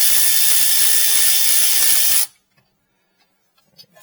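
A Milwaukee power tool zips loose a rear brake bolt on a 2018-2022 Chevy Equinox in a loud, buzzing burst of about two seconds, then cuts off to near silence with a few faint clicks.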